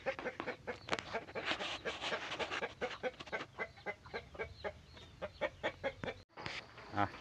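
Chickens cluck repeatedly close by, in short choppy bursts that run continuously, with a brief pause near the end before the clucking resumes.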